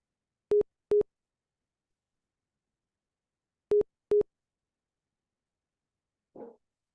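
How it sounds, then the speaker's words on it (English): Short pure tones from a lecture demonstration on sound, heard as two quick pairs of clean beeps a few seconds apart, followed by a brief faint noisy burst, all in otherwise near-silence. "it's going to get less and less likely you're going to hear a tone"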